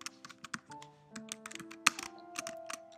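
Keys on a computer keyboard being typed in a quick, uneven burst of sharp clicks, entering a search into the Canva web app, close and clear with no voices.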